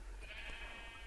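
A sheep bleats in Minecraft during a puzzle map, a single drawn-out, nasal cry of about a second heard at moderate level over a low steady hum.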